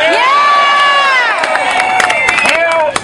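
A labor rally crowd cheers and shouts loudly and continuously, with whoops and scattered claps riding over the roar, close and dense throughout.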